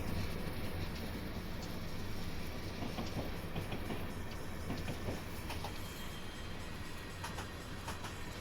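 A Union Pacific gas turbine electric locomotive rumbles past close by, steady low roar with rhythmic clacking of wheels over rail joints throughout, no voices.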